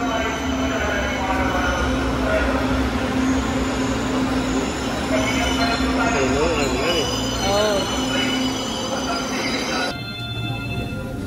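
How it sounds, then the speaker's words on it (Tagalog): Train pulling into a rail station platform in Manila, with steady rumbling and squealing wheels through most of the stretch, then the noise drops away near the end as it settles. "Waiting na po kami sa train."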